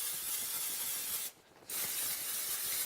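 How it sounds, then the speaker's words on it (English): Cooking spray hisses steadily onto pans, with a brief pause before a second continuous burst, close and fairly quiet. "So first, I'm just going to spray our pans so nothing sticks."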